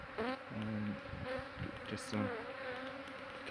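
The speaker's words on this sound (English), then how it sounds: "We have a beehive in this brick pillar." Honeybees buzzing around a hive built inside a brick pillar, a close, fluttering drone with individual bees passing near, soft and steady.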